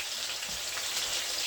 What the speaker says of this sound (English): So while the chicken is frying